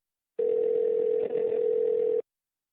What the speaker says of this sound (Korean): 전화가 계속 울리는 것 같은데